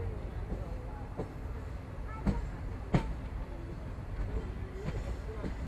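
Local Intercity Express train rolling slowly into Kallai railway station, a low steady rumble with rhythmic wheel clacks and a few sharp rail thuds, heard from inside the carriage.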